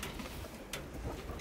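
A pet bird on a small chicken farm gives soft, low cooing calls, faint and somewhat distant against quiet outdoor background noise, with no talking.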